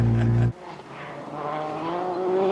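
Sebastien Ogier's Citroën rally car, running on a gravel stage in Portugal, takes a wide line through a corner, a loud close engine roar cutting off abruptly, then a rising engine drone as it accelerates away.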